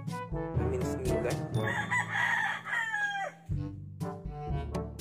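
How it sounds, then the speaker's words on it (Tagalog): A male chicken kept at a new house crows loudly and close by in one long drawn-out call, with lower clucking before and after it. "yung lalaking manok natin"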